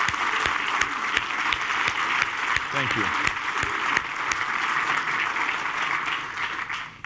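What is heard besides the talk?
audience applause for veterans at a campaign event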